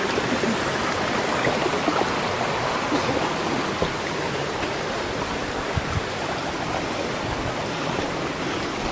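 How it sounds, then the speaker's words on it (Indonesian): A fast river stream flows across a hiking trail on the route to Kawah Ratu on Mount Salak, a loud, constant, close rush of churning water filling the whole clip with no talking. "Benar-benar jalurnya dialirin sungai cukup lumayan deras."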